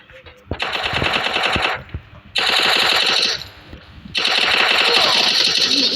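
UMP submachine gun bursts in a mobile shooter video game, three loud sustained bursts of rapid fire separated by short gaps, close and dominant.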